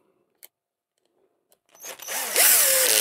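A Parkside impact driver is tested on a casing screw during a repair, with a few faint clicks before it starts with a loud, close, high-pitched whirring burst.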